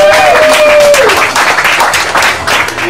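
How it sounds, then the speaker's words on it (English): An audience at a 2002 Dead Pool party breaks into loud applause, a dense burst of clapping and crowd noise that carries on at full strength for a few seconds. "Let's hear a big round of applause."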